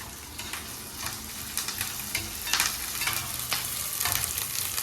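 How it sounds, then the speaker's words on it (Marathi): Curry leaves sautéing in hot oil for a crab curry, a close, lively frying sizzle with repeated stirring scrapes and crackling pops, no voices. "कढीपत्ता टाकलाय चांगलं लाल परतवून घ्यायचं"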